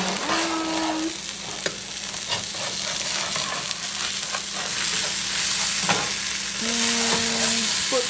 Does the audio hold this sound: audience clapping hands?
no